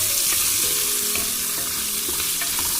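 Sausage and bacon frying in a pan for beans, a dense continuous sizzle with occasional spatter pops and faint stirring clinks, close and loud, no voices.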